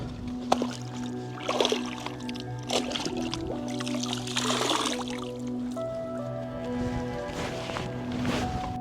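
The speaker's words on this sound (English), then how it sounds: "just gonna dunk this real quick in the water, wrap it around the neck" Cloth dunked into water outdoors in hot dry wash country, with close wet swishing, squishing and dripping that rises and falls over several seconds against a low background hum.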